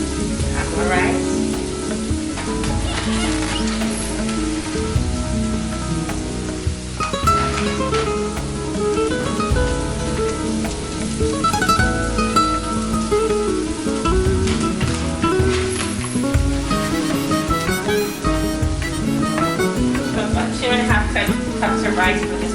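Dry rice toasts in oil in a wide paella pan, a loud, continuous close sizzle and crackle with stirring scrapes throughout, a voice talking at times over it.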